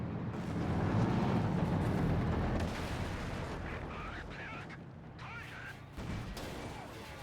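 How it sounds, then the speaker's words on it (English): Tank cannon fire and explosions from the Company of Heroes video game as a tank destroys AI tanks: heavy booming blasts and rumbling impacts, loud and dense at first, then easing into scattered crashes and a late thump. "suddenly the tank breaks out and destroys the AI tanks"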